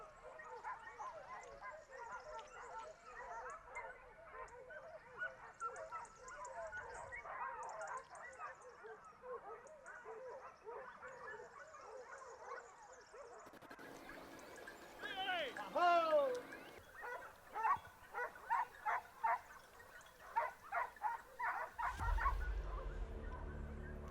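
Hunting dogs bark at a wild boar during a Portuguese montería in the Alentejo, with many overlapping yaps and barks that turn louder and more rhythmic toward the end, mixed with background noise and scattered voices.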